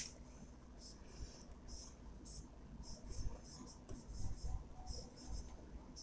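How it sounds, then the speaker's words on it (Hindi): Marker or chalk writing on a board during an electrical machines lecture on DC and AC generators, with repeated short scratchy strokes in bursts, fairly close over a faint room hum and low background noise. "मैं लिख देता हूँ"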